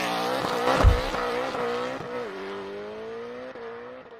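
A 2020 Mercedes-AMG CLA 45 with a hand-built 2-liter turbocharged inline-four launches under launch control. A loud burst with tire noise gives way to a rising engine note that climbs through the gears and fades slightly.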